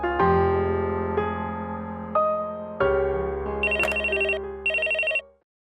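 A phone rings for an outgoing call in a home scene from a Tamil TV serial, a clear melodic electronic ringtone that plays alone, loud and close, then cuts off.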